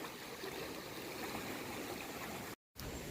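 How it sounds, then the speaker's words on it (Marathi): Steady rushing of a rain-swollen stream after heavy rainfall, continuous and fairly close, with a brief dropout near the end. "हा ओढा आणि ते हे पाणी"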